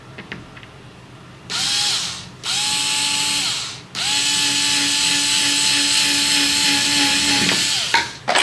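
A cheap power drill drives screws into a wall, heard up close as loud whirring bursts: two short runs, then a long sustained spin, and a brief final whir. No one speaks.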